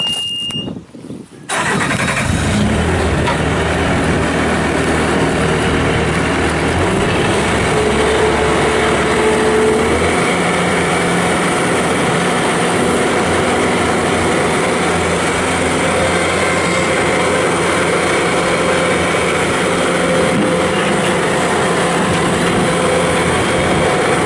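A 2015 Bobcat S590 rubber-tire skid steer loader with a 66 hp engine starts up, then runs at a steady loud drone for the rest of the clip, close to the listener, with no talking.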